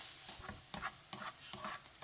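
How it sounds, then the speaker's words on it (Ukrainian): Oil sizzles steadily in a pan as onion fries over medium heat, while a utensil stirs and scrapes in several brief bursts, close and moderately quiet. "Смажимо її на середньому вогні, періодично помішуючи."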